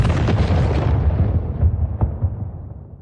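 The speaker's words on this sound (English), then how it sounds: "What was that explosion?" A game explosion from explosive living jars grafted inside a character's body, heard as a dense roaring rumble that stays loud for about two seconds, with a sharper burst near the middle, before tapering into a low fading tail.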